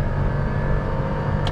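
Inside a Toyota Raize with a CVT driven in manual mode while shifting gears, a constant low engine drone and road rumble fill the cabin without a break. A small knock sounds near the end.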